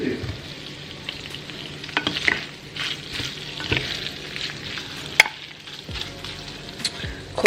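Meat fries in a pan for a loaded BBQ baked potato, giving a continuous close sizzle broken by stirring scrapes and occasional sharp utensil knocks against the pan.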